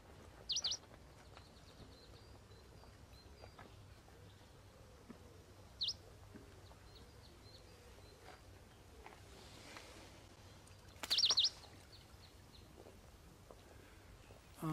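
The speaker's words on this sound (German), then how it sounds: "Armes Vögelchen, bleib ganz ruhig" A small injured bird gives short, high chirps in a few separate bursts, one near the start, one in the middle and a louder cluster later, faint against a quiet indoor background.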